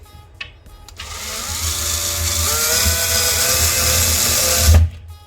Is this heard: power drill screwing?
yes